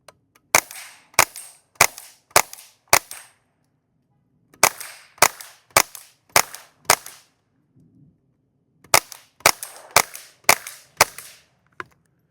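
A suppressed Mauser AK47 Omega .22 LR rifle fires three quick strings of about five sharp, dry cracks each, with short pauses between strings and a final lone shot, outdoors with no talk.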